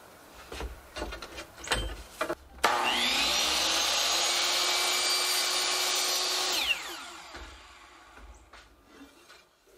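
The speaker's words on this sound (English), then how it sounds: "I'm just cutting down some thin strips of wood and some of this egg and dart trim" A power tool cuts thin wood strips and egg and dart trim, one steady burst of about four seconds between quieter handling noises.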